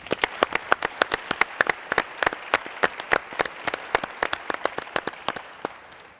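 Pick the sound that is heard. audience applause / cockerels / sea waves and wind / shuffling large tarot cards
audience applause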